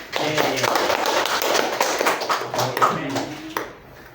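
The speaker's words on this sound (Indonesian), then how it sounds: "Tepuk tangan untuk Anggita." A classroom audience claps for a student, a burst of brisk hand claps mixed with voices and chatter, lasting a few seconds before cutting off abruptly.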